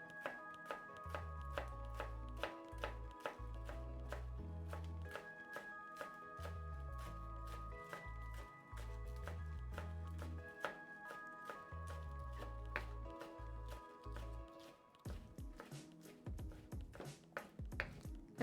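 Knife chopping scallions thinly on a cutting board, a long run of quick, even taps close up with short pauses between bursts, with music playing underneath.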